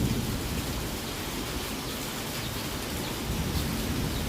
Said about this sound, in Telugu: చూడండి ఎంత పెద్ద వర్షం పడుతుందో